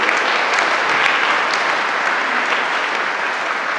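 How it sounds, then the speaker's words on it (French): A church congregation applauds steadily at a Sunday Mass marking the start of the parish year, a dense, even wash of many hands clapping throughout with no pauses. "On peut les applaudir"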